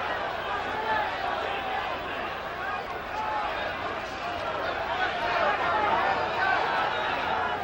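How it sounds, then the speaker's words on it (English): A boxing arena crowd at a 1983 middleweight title fight roars and chatters steadily throughout, a dense continuous wash of noise with no distinct voices standing out. "Crowd is really into this fight."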